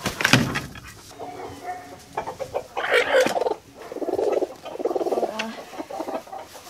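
Broody hens cluck in a chicken coop, a run of close, soft, low clucks and murmurs in bursts with brief pauses, one sharper call near the start.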